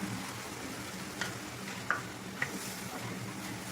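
Bitter gourd and shrimps sauté in a pan with a steady, soft sizzling hiss. A few light clicks from stirring poke through now and then.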